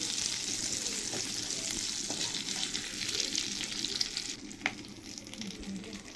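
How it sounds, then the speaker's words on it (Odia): Already-fried shrimp crisping again briefly in a pan, giving a steady, dense sizzle with small spits and a few faint clinks, close and continuous without speech. "ଏଇଟା ଭଜା ଚିଙ୍ଗୁଡ଼ି ବୋଲି ମୁଁ ଅଳ୍ପ ଟାଇମ୍ ଭାଜୁଛି ଆଉ"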